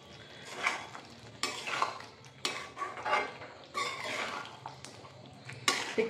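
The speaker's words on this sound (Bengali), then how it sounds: "ডিমটা দিয়ে একটু ভালো করে নেড়ে চেড়ে দিই" A utensil stirs duck eggs through a simmering curry in a pot, giving close scraping and clattering strokes in uneven bursts over a low bubbling background.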